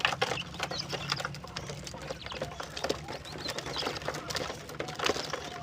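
Quail kept in a small pen at home, giving soft repeated calls and chirps over a low, steady background hum, fairly quiet and close.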